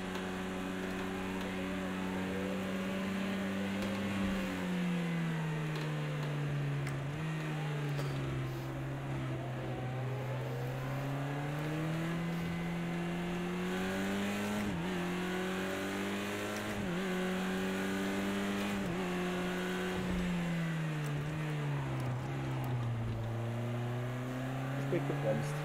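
Racing car engine in Project Cars 2 on the Nordschleife, driven in third gear through corners, drones steadily with rising and falling revs throughout, a continuous loud whine under occasional talk.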